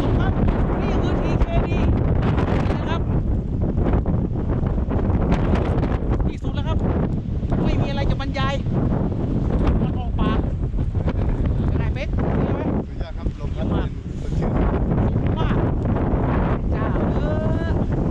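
Strong wind rushes through trees on the Doi 60 Mon mountain top, buffeting the microphone in a constant loud roar with gusting swells, while someone talks intermittently beneath it.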